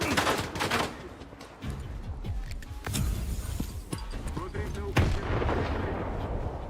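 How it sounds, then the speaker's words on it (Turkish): STALKER 2 combat: a booming bomb blast followed by rapid bursts of gunfire and heavy impacts, loud and close, continuing throughout. "Önümde bir bomba patladı"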